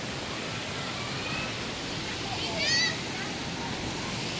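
Nan Sato waterfall in Trang, Thailand, pours in a constant broad rush of falling water, with faint bird chirps rising briefly above the steady roar.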